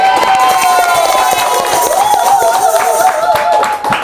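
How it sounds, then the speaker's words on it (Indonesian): A small audience of teachers and guests claps and cheers at the close of a Ramadan podcast session, with dense, steady clapping mixed with crowd noise and a few raised voices throughout. "Boleh tepuk tangan dong."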